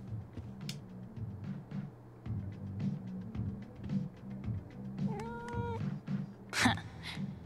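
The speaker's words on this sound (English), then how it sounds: "What a cute cat." A cat in the video game Life is Strange: True Colors gives a short run of soft, close meows, then one sharper, louder meow near the end, over a quiet game background.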